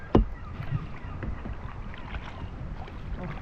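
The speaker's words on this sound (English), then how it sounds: "Pictured Rock kayaking." A kayak paddle dips and swishes through lake water during a tour at Pictured Rocks National Lakeshore, Michigan, with one sharp splash near the start, then soft ongoing water and wind noise around the boat.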